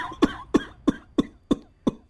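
A man coughs six times in a steady, evenly spaced series, each cough a sharp, close burst separated by brief quiet.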